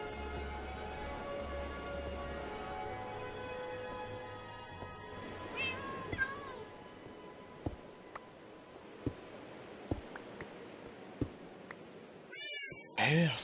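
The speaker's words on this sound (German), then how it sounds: "Wieso miaut denn das die ganze Zeit hier?" Cats in Minecraft meow repeatedly during gameplay, soft short mews scattered over several seconds alongside clicking taps and a steady background drone, with a louder meow near the end and people talking at times.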